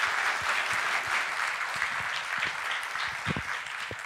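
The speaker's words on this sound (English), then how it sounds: "let's all give her a big round of applause" A conference audience applauding a keynote speaker at a PyCon event, dense sustained clapping from many people filling the room at an even level.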